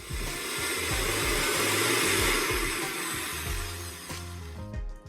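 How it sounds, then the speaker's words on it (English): A blender purees a batch of sorrel petals, giving a loud, steady whirring motor roar with a chopping, churning undertone that slows and winds down near the end. "blending up this second batch of these sorrel petals"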